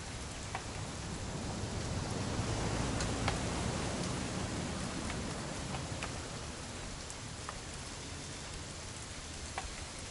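Steady rain falls through the whole stretch, a dense even hiss with scattered sharper drops ticking on surfaces, fairly loud and close, with no talk over it.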